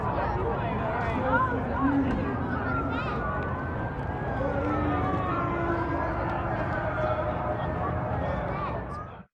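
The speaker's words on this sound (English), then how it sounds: "and then the sirens start" Police sirens wail from a distance with rising and falling tones over a murmuring crowd and scattered voices, after gunshots at the 2024 Kansas City Chiefs rally.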